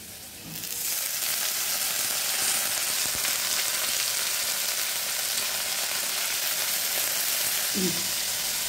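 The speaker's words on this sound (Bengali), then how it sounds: "আমি একসঙ্গে ভালো করে ভেজে নেবো শাকগুলো" Leafy greens drop into a pan with frying potatoes and crackle into a loud, continuous sizzle that holds steady, with a brief stir or clatter of the spoon near the end.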